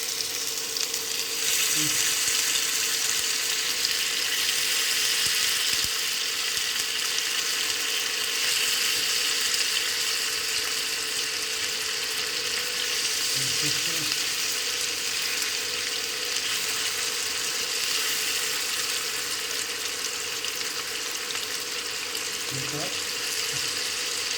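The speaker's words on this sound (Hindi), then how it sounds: "देखिए तेल गर्म हो गया, इसको सेक रखना है" Mutton tawa kabab roasting in hot oil on a griddle, giving a steady, loud, continuous sizzle that runs throughout with only occasional faint scrapes.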